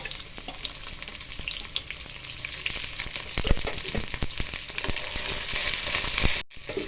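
Onion frying in oil with mustard seeds and cumin, a loud, continuous dense sizzle with scattered crackles and spits, rising slightly before cutting off abruptly near the end.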